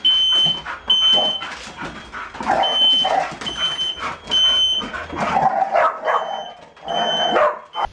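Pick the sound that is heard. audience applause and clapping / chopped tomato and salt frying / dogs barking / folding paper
dogs barking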